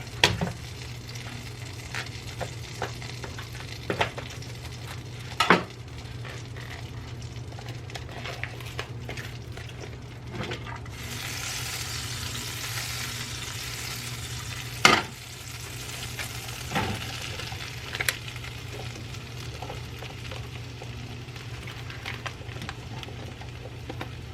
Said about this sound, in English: go ahead and open up your mushrooms, and we're going to saute these first